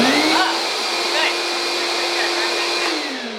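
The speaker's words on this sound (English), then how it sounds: "Let's see if this shop vac works." A shop vac runs steadily inside an empty cabin, switched on with a loud, even whine and rushing airflow that holds for several seconds before beginning to wind down, with no one speaking.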